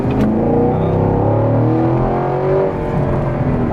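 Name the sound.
sports car accelerating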